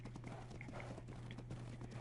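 Hooves of an Equus clip-clopping in the Ark: Survival Evolved Ragnarok map, a steady run of close, even hoofbeats over a constant low game hum, with no talk.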